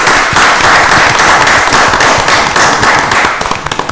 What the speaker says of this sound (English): That warrants another round of applause.